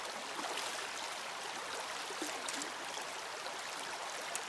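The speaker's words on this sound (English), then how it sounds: "This is the creek crossing you're right at campsite 3." Creek water rushes steadily at a trail crossing near a backcountry campsite in the Great Smoky Mountains, a continuous close, even broadband wash with no voices.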